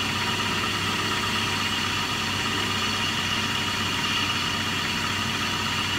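A car engine idles with the air conditioning on max, a loud, steady, close rumble and hum that holds constant with no distinct change, while the compressor engages.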